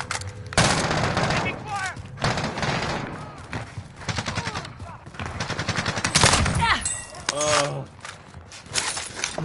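Dense gunfire in the shooter game Warzone, with rapid automatic bursts and single shots cracking close and loud, mixed with mechanical weapon handling clatter and voices calling out over the shooting.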